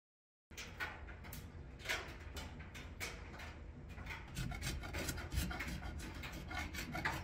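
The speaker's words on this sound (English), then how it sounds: "what I'm doing here is I'm just using my carbide scraper" A carbide scraper drawn over a vintage wooden rocking chair, giving repeated close rasping strokes in a steady rhythm that continue throughout.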